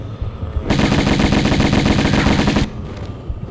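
Rapid automatic gunfire from the Tomb Raider Remastered video game, set in the Atlantis level, rattles loud and continuous for about two seconds before cutting off abruptly to quieter game ambience.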